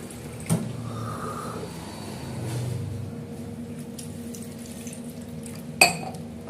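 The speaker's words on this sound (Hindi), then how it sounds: "मैं गरम कर लेती हूँ पानी" Water runs and splashes into a metal pot in a home kitchen, a steady soft pour with a couple of sharp clinks of the pot near the start and end, close and alone without talk.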